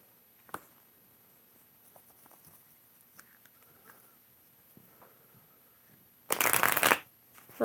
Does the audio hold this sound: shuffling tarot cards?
yes